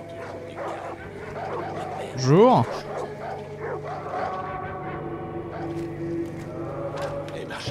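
A dog in the video game Far Cry 5 gives a short, rising whining bark up close, over a steady backdrop of game sound while someone speaks.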